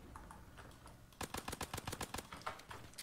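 Rapid bursts of gunfire from a weapon in Call of Duty Zombies, a dozen or so sharp, close shots firing in quick succession after a quieter opening second of low game ambience.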